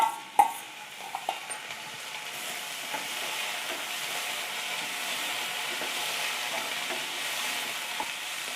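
Cauliflower sautés in a pan with onion and ginger-garlic paste for an aloo gobi masala fry, giving a steady close sizzle and hiss with a few light clinks of a spoon stirring near the start; no one speaks.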